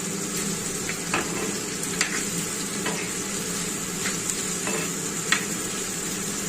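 Small potatoes frying in a pan, a steady low sizzle with the occasional clink and scrape of stirring, close and fairly quiet, no one talking.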